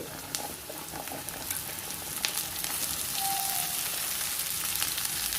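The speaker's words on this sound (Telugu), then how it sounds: "ఈ విధంగా బాగా ఉల్లిపాయలు వేగిన తర్వాత ఇప్పుడు ఇందులో మనం కట్ చేసుకున్న బెండకాయ ముక్కలను కూడా వేసేసుకోవాలి" Okra pieces frying with onions in a pan, a continuous crackling sizzle with light scattered pops, moderately loud and steady, no talking.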